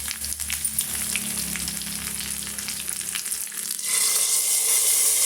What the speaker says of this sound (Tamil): இப்போ வந்து தேவையான அளவுக்கு பச்சை கருவேப்பிலை சேர்த்து நம்ம தாளித்து விட்டுக்கலாம்